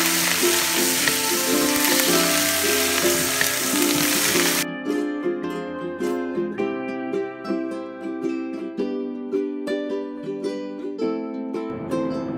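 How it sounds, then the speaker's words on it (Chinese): Eggplant in a wok: a loud hiss of sizzling fades out, then a spatula clatters and scrapes against the metal in quick, repeated stir-fry strokes, close up with no talking. "打开锅盖翻炒几下就可以出锅装盘了"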